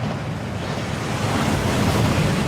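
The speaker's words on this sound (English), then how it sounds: "That waterfall washes away all enchantments." Waterfall rushing in the video game Hogwarts Legacy, a steady, dense roar of falling water that fills the whole stretch at a constant, fairly loud level with no voices.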